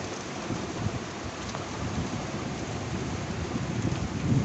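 Steady rain pours down during a thunderstorm, a dense continuous hiss with low rumbling underneath, loud and unbroken, with no talking.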